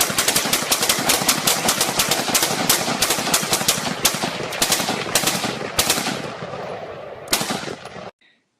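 Rifle fire at a 600-yard target on a shooting range: loud, rapid repeated shots in a dense volley for about eight seconds, crisp cracks close to the listener, ending with a few scattered final rounds.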